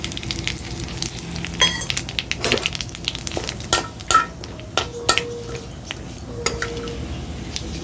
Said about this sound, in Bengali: এই তেলের মধ্যেই ফোড়নে দিয়ে দেবো কালো জিরে,